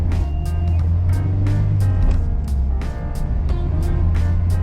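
A manual-transmission car drives along in second gear, its engine droning low and steady up close while faint regular ticks and clicks repeat over the hum.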